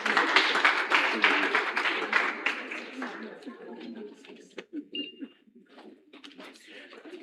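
Clapping from a crowd greeting a guest at a live interview event, dense and loud at first, then thinning into scattered claps and fading under background chatter.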